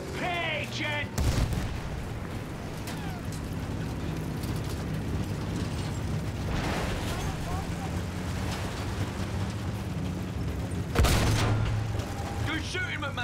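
A World War I tank battle in Battlefield 1 rumbles with clanking machinery, heavy booms and scattered gunfire. Loud cannon blasts strike near the start and again near the end, under shouted voices.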